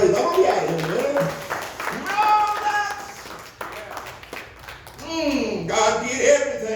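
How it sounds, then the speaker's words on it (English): Congregation clapping hands in praise during a church sermon, scattered claps mixed with loud voices and music-like tones, crowd noise rising near the end. "Give me a hand clap of praise"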